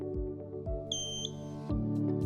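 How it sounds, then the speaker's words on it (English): A motorized outdoor shade's motor head gives a single clear electronic beep, a high two-tone chirp that lasts about a third of a second, with a low droning hum and soft clunks from the motor jogging underneath. "press and hold the setting button in the motor head until you see the shade jog and beep once"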